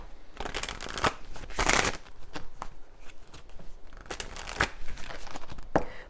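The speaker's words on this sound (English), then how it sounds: "when I shuffled this just now" Tea leaf cards being shuffled by hand, a close, continuous papery riffling and rustling with sharper flicks and slaps scattered throughout, no voices.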